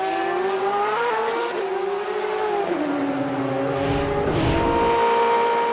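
LMP2 prototypes and GT endurance race cars roar past on a circuit, engines wailing high and shifting pitch as they pass close by, with a brief tire squeal in the mix.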